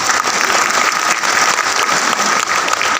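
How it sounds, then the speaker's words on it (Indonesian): Dense, steady applause fills a church during a thanksgiving mass, a congregation clapping together loudly and continuously with no break. "Tepuk tangan dulu untuk."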